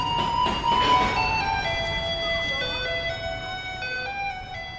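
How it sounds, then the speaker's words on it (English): A garbage truck in Taiwan plays Für Elise as a bright electronic chime melody, steady and fairly loud over a low hum of street noise, with no talking. "this is what a garbage truck in Taiwan sounds like"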